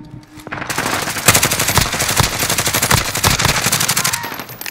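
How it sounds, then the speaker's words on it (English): Dense automatic gunfire from a battle-royale video game shooter, loud, near rapid bursts firing almost nonstop with a few heavier shots standing out. "Watch out, Brian, they're shooting at you."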